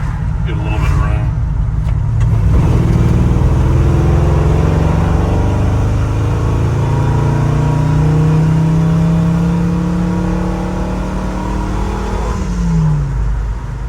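A 1970 Ford F-100 bumpside pickup with a Crown Victoria engine swap and 600 CFM FST carburetor revs up loudly while held in second gear, a rising engine drone climbing steadily in pitch before dropping off as it shifts.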